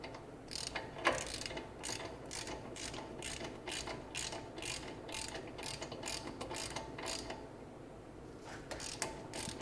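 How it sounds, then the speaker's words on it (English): A ratchet clicks in quick repeated strokes while loosening a bolt during removal of a GM 3.6L engine from an SUV, a close series of sharp metallic pawl clicks that pauses briefly near the end. "Taking the bottom bolt off first"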